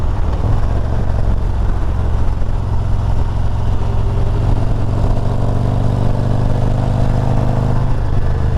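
Harley motorcycle engine rumbling steadily on a rural road, State Route 555, a continuous loud low drone from a rider's perspective with no pauses.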